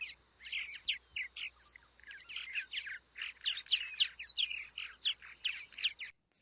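A long-tailed bird with glossy back and white belly sings in spring, a series of bright chirping phrases repeated in quick bursts, clear and alone against a quiet background.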